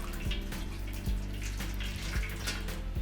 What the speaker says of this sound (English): I'm gonna pour some hot water inside the pan